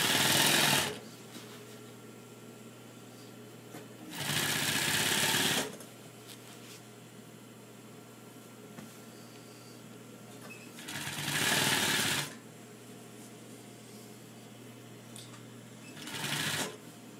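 A sewing machine runs in three or four short bursts, stitching a tight seam on a throw pillow, with a steady low motor hum in the quiet gaps between the bursts.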